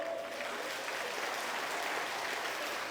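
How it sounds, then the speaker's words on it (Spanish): A soft, steady patter of clapping from a church congregation, fairly distant and even throughout the few seconds. "A ver, otro aplauso."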